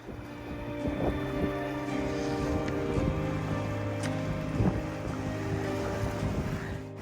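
Wind rushes over a sailboat crossing the Bay of Biscay at sea, a soft steady blowing with faint creaks and water sounds, no talking.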